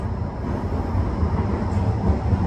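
A Blackpool tram rolls steadily along its track with a continuous low rumble and rattle, close and even throughout, no voices over it.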